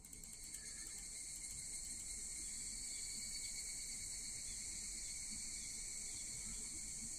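Cicadas keep up an unbroken, shrill droning chorus at a night shrine in an Exit 8-like video game, steady and moderately loud throughout, with no voices heard.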